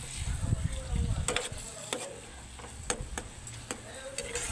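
Eggs and tomato being stirred in a frying pan for a Filipino breakfast, soft steady sizzle under repeated scraping and tapping of a utensil against the pan, quiet and close.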